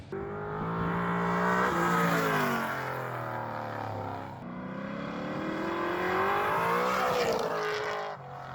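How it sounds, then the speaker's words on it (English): A 600-horsepower LS-swapped G-body Chevrolet Malibu engine revving up and down through two long sweeps, pitch rising and falling, loud and close with no talking. "they don't go well with engines that like to rev like this one does"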